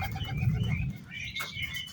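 A domestic pigeon coos close by, a low soft throaty burble in the first second, followed by fainter higher chirps and a brief fluttering rustle.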